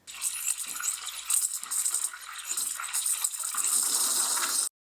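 The steam wand of a DeLonghi Dedica espresso machine froths milk with the tip near the surface, giving a steady hissing, gurgling rush that runs continuously and close.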